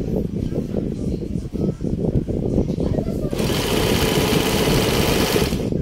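A sewing machine stitches in reverse, its rapid mechanical chatter running steadily up close and growing brighter and louder partway through, with a voice talking over the start.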